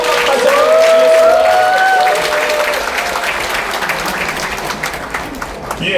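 An indoor audience at a book launch for a memoir, held at the National Assembly Museum, breaks into sustained loud applause that slowly tapers off, with a voice speaking over the start.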